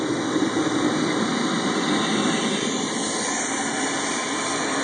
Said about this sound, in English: That's with the blower just cranked just a tiny bit.